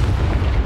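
A Confringo fire spell in Hogwarts Legacy blasts as one short, loud, deep boom that fills the whole moment with rumbling low-end weight.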